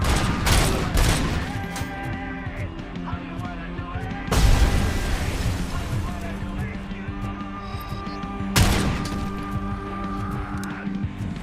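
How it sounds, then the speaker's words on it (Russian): Bursts of rapid gunfire and booming blasts in the video game RoboCop: Rogue City, loud and close, with heavy shots punctuating a steady rattle of battle noise. "Вот стрельба здесь классная."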